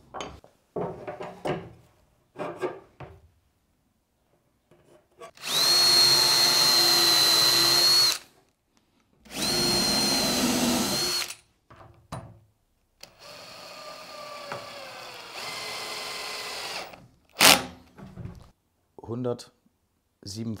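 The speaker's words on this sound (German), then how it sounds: "Da werden wir jetzt wieder Löcher reinbohren." A handheld power drill bores holes while building a panel cart, with several loud whirring bursts of a few seconds each separated by pauses, handling clatter and someone talking between them.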